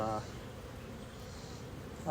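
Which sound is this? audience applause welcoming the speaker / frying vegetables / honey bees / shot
honey bees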